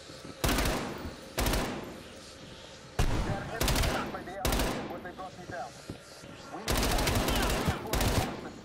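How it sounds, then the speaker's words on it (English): Shotgun blasts in Call of Duty Black Ops Cold War, five or six loud booming shots spaced about a second apart, some in quick pairs, with game ambience between them. "He just pulled out two shotguns."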